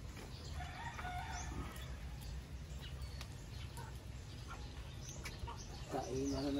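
Chickens cluck and a rooster crows faintly in the distance over a steady rural background hum, with scattered bird calls and some brief voices.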